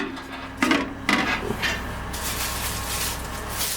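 A metal lid set down into an empty cooking pot standing on a stove, giving two close clanking knocks a moment apart, then a short scrape, with no voices.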